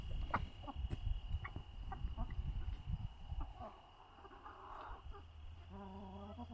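Chickens cluck softly in a yard amid rustling and shuffling, with a faint steady hum and some brief tonal sounds near the end.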